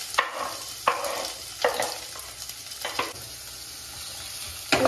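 Onions and green chillies frying in hot oil for egg Maggi, a steady close sizzle punctuated by four or five sharp spoon strokes against the pan at roughly regular intervals, with no voices.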